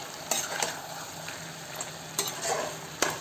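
Chicken gravy with garam masala stirred in a pan, with sharp scrapes and clinks of a utensil against the metal over a bubbling sizzle, heard up close with no one talking.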